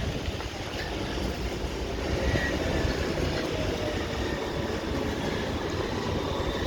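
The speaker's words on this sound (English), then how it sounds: "And here you can hear the trams rolling by." Trams roll along a city street in Gothenburg, a steady broadband rumble and rail rolling noise close by, continuous over several seconds with no talk.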